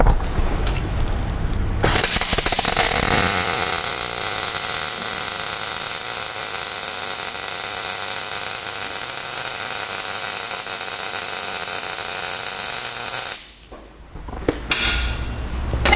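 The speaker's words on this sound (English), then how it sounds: "I'm going to strike an arc and we're going to listen to it" A MIG (GMAW) welding arc at 14 volts crackles and sizzles loudly and continuously for about eleven seconds after striking, then stops abruptly, leaving a few small clatters.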